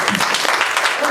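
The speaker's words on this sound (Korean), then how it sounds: "박수 좀 부탁드릴게요" Audience applause at a Korean film Q&A screening for Black Money at an Art Nine cinema, a short dense burst of many hands clapping filling the room, with voices mixed in underneath.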